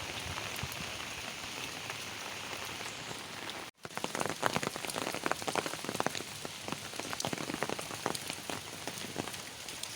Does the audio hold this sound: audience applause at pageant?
no